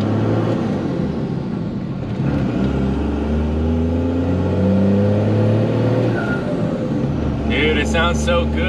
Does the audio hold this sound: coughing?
no